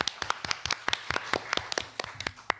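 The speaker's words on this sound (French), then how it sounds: "Donc c'est une bonne réponse, on peut les applaudir." Studio audience on the French game show Burger Quiz clapping in a brisk, uneven patter of sharp hand claps, moderately close and loud, with no talk over it.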